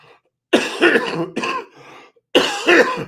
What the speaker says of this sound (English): Excuse the coughing, I'm sick.